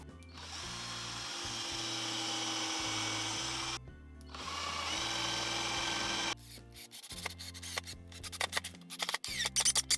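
Power drill driving 65mm coarse-thread screws, bought at Daiso, into wood for a DIY router table; steady whirring runs broken by short pauses, ending in choppy bursts, close and loud.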